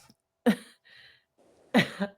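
Two sharp, close coughs separated by a short pause, with a faint murmur in the quiet gap between them.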